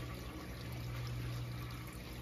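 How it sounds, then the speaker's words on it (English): RODI water pours and trickles through fresh carbon being rinsed for a reef tank, a soft, continuous watery flow heard faintly and close, with no voices. "Right now I have RODI water in here. The carbon, and it's rinsing out."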